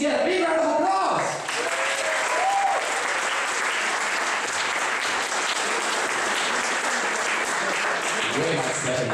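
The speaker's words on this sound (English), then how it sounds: "Can the organizers please get a big round of applause?" Big round of applause for the organizers at a Startup Weekend event in Žilina, loud sustained crowd clapping that swells after a brief spoken moment at the start and continues steadily.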